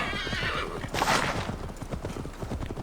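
A horse in the Assassin's Creed Valhalla video game whinnies loudly over the rhythmic clip-clop of its hooves, with a voice talking underneath.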